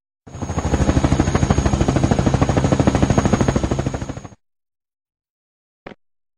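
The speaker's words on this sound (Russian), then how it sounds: "Вертолет." Cartoon helicopter sound effect for children, a loud, fast, even rotor chop thudding steadily for about four seconds and then cutting off abruptly, with one short click after a pause.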